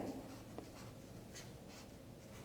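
Calligraphy brush laying thick, rough strokes on paper, a soft repeated brushing sound with several faint strokes over a low room hum.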